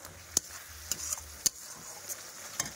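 Chicken frying with masala in a pan, a low steady sizzle with a few sharp spoon scrapes and clicks at irregular intervals, close and fairly quiet; no voices.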